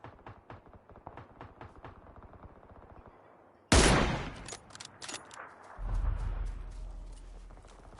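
Gunfire in PUBG on PS4: a rapid run of light taps, then a sudden loud burst of shots followed by scattered further bursts and a heavy rumbling blast near the end.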